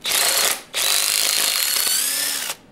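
A cordless power drill whirs loudly and close while working on a 1978 Chevy Camaro 350 engine, in two sustained bursts split by a short pause, its pitch shifting slightly under load.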